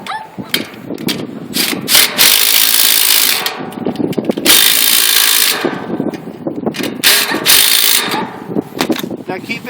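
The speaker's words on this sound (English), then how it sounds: "I'm going to use an impact with a 1/2-inch bit on it. And I'm just going to tighten up these 3 bolts right here." Impact driver with a 1/2-inch bit tightening three bolts on a HughesNet HN9000 satellite dish, loud close bursts of buzzing and rattling hammering separated by short pauses.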